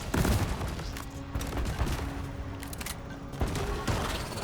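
Automated turrets in Deep Rock Galactic unleash dense, rapid bursts of gunfire, loud and close, with a short lull in the middle before the volleys resume amid game effects.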